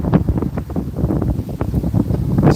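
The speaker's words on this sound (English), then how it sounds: "it's so windy that I'm getting cold" Strong wind buffets the microphone in loud, uneven gusts, a close rumbling roar that rises and falls throughout.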